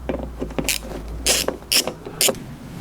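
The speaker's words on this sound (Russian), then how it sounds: "Далее перед нами открывается еще один болтик, Торекс 20, откручиваем и его." A Torx 20 bolt is unscrewed from a Volkswagen Golf door, giving quick clicky ratcheting and small metallic creaks close to the mic, with several sharper bursts near the end.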